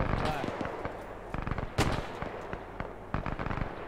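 Bursts of machine-gun fire crackle in a World War II battle in the game Arma 3, with rapid rattling volleys and scattered shots, some close and loud, others more distant, under voices on the radio.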